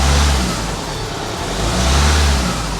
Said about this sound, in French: je peux accélérer un petit peu pour être sûr qu'on chasse un petit peu l'air qu'on aurait pu introduire